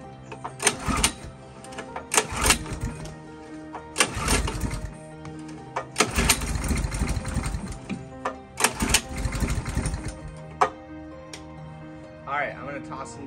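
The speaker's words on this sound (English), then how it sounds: "So I'm gonna keep pull starting and see what happens." An old Stratos race kart engine is pull-started over and over, each loud, rough burst of cranking and sputtering separated by brief pauses, close to the listener.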